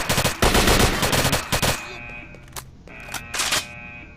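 Rapid automatic gunfire in S.T.A.L.K.E.R. Shadow of Chernobyl rattles loud and close for about two seconds. A few shorter, sharper shots follow after a brief lull.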